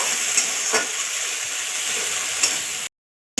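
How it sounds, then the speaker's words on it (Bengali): Spice paste with turmeric powder fries in a pan and gets stirred, giving a steady close sizzle with a few scraping strokes, and then a sudden cut to silence near the end. "হলুদ গুঁড়ো, ভালো করে একটু মশলাটা কষে নেব।"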